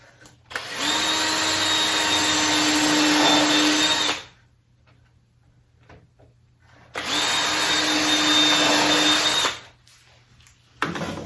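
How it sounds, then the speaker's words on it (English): A power drill bores pilot holes into the joints of a wooden planter built from a utility pole, in two loud, steady whirring bursts of about three seconds each, separated by a quiet pause. "now I can drill the pilot hole in these two joints here"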